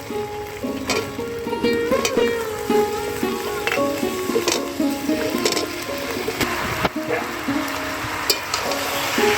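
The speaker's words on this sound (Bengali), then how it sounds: "সবজিগুলোকে দিয়ে আদা পেঁয়াজের সাথে আর একটু নেড়ে চেড়ে নেব।" Vegetables being stir-fried with ginger paste and onion for khichdi, a steady sizzle broken by scraping and tapping as they are turned in the pan, no talking.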